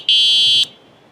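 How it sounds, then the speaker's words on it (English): Buzzer on an ADO A20F fat-wheel e-bike sounds one loud, steady high-pitched electronic tone lasting about half a second, then cuts off sharply, with no talking. "right here we do have a buzzer, which is very loud."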